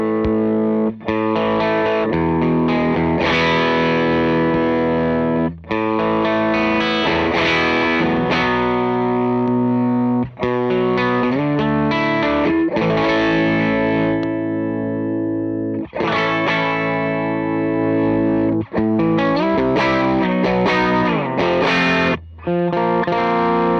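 An electric guitar plays through a Twin Sonic OKKO pedal as its mode toggle is switched, producing loud distorted chords and riffs with short gaps between the phrases.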